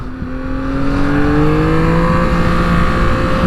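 A 2024 Yamaha MT-09 SP motorcycle revs while riding on a mountain road, its engine rising steadily in pitch as it accelerates, loud and close with wind roar and no talk.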